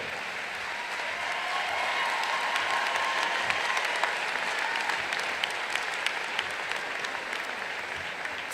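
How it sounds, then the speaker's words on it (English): An audience at a commencement ceremony claps for the graduates' families, a steady, evenly dense applause of many hands that stays at a constant level throughout without letting up. "A warm hand of applause for our family."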